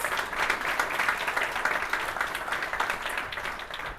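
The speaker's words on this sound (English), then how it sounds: "Round of applause." Audience applause at a university sports awards night fills the moment, a steady wash of dense crowd clapping at moderate volume with no voices on top, continuing evenly to the end.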